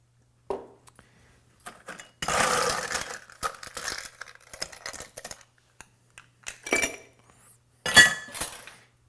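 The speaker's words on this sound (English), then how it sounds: "Add our ice and stir." Ice is dropped into a cocktail glass and stirred, with a loud rattling tumble of cubes followed by scattered clinks and a final bright clatter of ice against glass.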